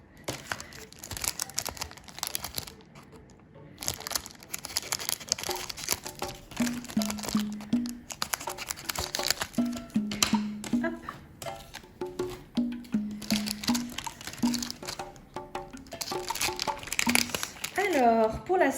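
Crinkling foil wrappers of amiibo card booster packs and scissor snips come close up, with a voice talking quietly between the rustles.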